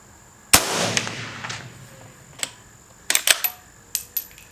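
A Henry Supreme lever-action rifle in .300 BLK fires a single sharp, loud shot of 145 grain FMJ with a short decaying tail, followed by several clicking lever and action clacks.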